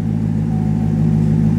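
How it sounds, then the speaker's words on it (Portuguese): A cold car engine idles steadily right after starting, warming up with a close, continuous low rumble and a faint even throb. No one speaks. "Deixa o motor dar uma esquentada."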